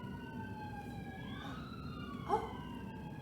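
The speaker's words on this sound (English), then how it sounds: "there goes the ambulance." A wailing ambulance siren sweeps up and down in pitch, passing at moderate distance, with a brief exclamation from a voice partway through.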